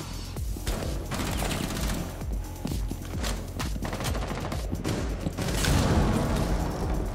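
Rapid bursts of gunfire from a first-person shooter match in Rainbow Six Siege, dense and loud, with sharp repeated shots and short volleys running continuously with no talking.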